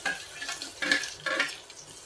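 Small cut onions for channa masala sundal go into a pan, giving a few soft sizzling, stirring scrapes in uneven bursts, close and moderately quiet, with no voices.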